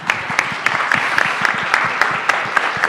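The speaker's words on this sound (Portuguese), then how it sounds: "vou aplaudir todo mundo" Audience applauding at the close of a panel debate at the INOVAtic 2024 event, a steady dense patter of many hands clapping with sharper individual claps standing out, close and sustained throughout.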